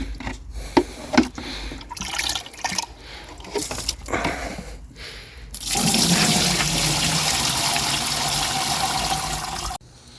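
Moldy liquid poured container by container through a screen into a bucket: first splashes and knocks, then a steady loud rushing pour lasting several seconds before stopping abruptly.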